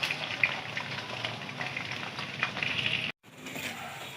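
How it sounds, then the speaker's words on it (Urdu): Onions sizzle and fry in hot oil with whole green cardamom, black peppercorns and cloves for a chicken shorba salan, a steady close hiss with faint crackles that cuts off briefly near the end, then resumes. "پیاز کو ہم اچھی طرح سے براؤن ہونے تک بھونیں گے"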